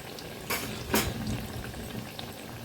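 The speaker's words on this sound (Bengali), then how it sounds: "এইভাবে আমি লো টু মিডিয়াম ফ্লেমে এটাকে উল্টে পাল্টে বেশ লাল লাল করে ভেজে নেব" Gentle sizzling and bubbling of pakoras frying in oil over low to medium flame, with a couple of brief scraping turns, close and fairly quiet.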